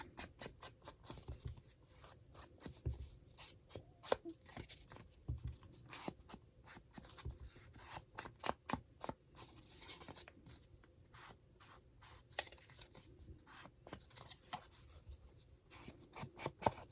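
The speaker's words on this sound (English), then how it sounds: "I'm going to get out my frayed burlap and ink up this envelope" Frayed burlap rubs and dabs ink onto a paper envelope in a string of quick, scratchy, papery strokes, close and fairly quiet, with brief pauses between bursts and no talking.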